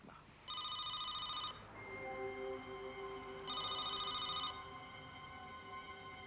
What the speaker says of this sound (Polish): Nie odbierze pani telefonu?